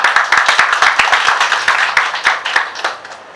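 Audience applause at a Bangladeshi panel discussion on the role of entrepreneurs in building a Smart Bangladesh: steady, dense clapping from many hands that continues throughout, with individual claps standing out and no talk over it.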